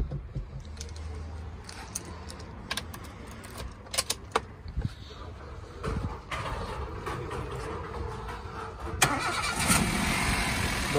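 A 2011 Toyota Etios Liva with a petrol and CNG engine runs at a steady idle, its low hum nearby, with scattered clicks and knocks and a rise in broadband noise near the end.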